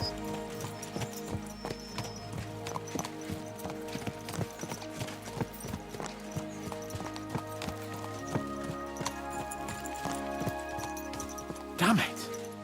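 Several horses gallop in Kingdom Come Deliverance 2, their rapid, rhythmic hoofbeats running steadily throughout alongside tack rattle, a snort or whinny near the end, and game music underneath.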